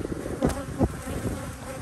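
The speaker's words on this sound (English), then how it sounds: "Bees are not happy at all." Agitated bees swarm around a hive at an apiary, their loud droning buzz rising and falling close by, with a couple of sharper swells as individuals fly near.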